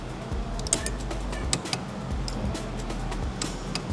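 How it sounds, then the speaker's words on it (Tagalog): A torque wrench clicks as its set torque is reached while a pulley bolt is tightened, giving a few sharp, dry clicks over a low background rumble. "So, tumunog na ulit yung ating torque wrench"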